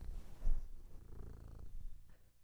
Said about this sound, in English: Is she purr in the microphone?